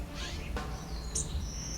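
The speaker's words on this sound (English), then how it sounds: "You hear birds." Birds chirp and sing outdoors in a quiet city setting, with a few bright calls and a longer high whistle standing out clearly above a soft, steady background hum.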